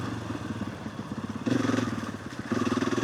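A stalling 500 trail motorcycle on a ride around Ambleside revs on the throttle, rising in two strong bursts over a steady chugging idle, loud and close with no voices.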